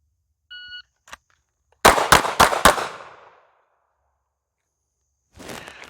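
Four sharp pistol shots fired in quick succession while the shooter retreats on a 2.5-second par drill, loud and close, preceded by a short electronic timer beep and followed by ringing decay and a later clatter.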